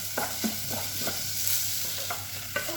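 Rice grains are stirred in hot oil in a pan, a steady sizzle with about eight distinct scraping strokes of the spoon at an even pace, close and alone with no talk.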